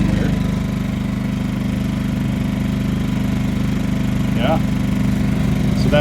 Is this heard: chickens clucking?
no